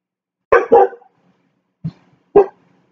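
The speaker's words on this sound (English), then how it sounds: "excuse my dogs." A dog barks several times: a quick double bark, a pause, then two more single barks, fairly close with quiet gaps between.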